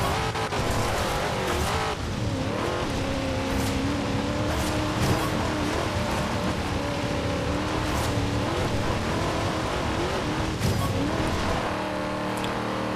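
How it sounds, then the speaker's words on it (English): Carbureted V8 race car engine roaring continuously in Forza Horizon 2, loud and close with steady revving, gear shifts and brief tire squeals during a race. "Do love the sound of that carbureted V8."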